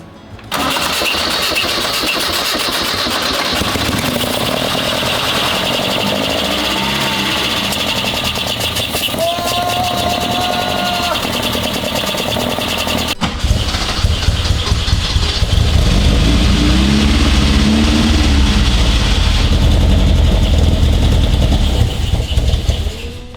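Classic Alfa Romeo GTV 1750 engine cranking and catching, then running loud and close with rising revs and a deeper, rougher idle toward the end; no talking.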